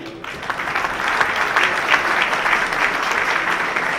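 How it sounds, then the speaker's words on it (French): A crowd claps steadily for several seconds, a dense, even applause that holds at full volume before ending abruptly. "que je demande encore d'applaudir"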